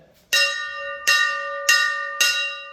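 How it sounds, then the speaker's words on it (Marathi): A temple bell at a village goddess shrine in Mundhar, Guhagar, is struck four times at a steady, slightly uneven pace, each clear metallic clang ringing on with a long humming decay, close and loud with no talk. "इथे घंटानाद करायचा आहे"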